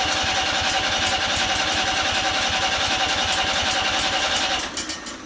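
Vintage Ferguson TEA 20 tractor engine running at a steady, fast chugging beat, loud and close throughout, easing off slightly near the end.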